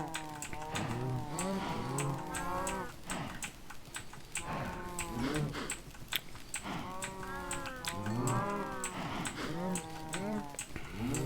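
Cows in Minecraft moo repeatedly in drawn-out, wavering calls that overlap one another, with soft clicking like typing underneath.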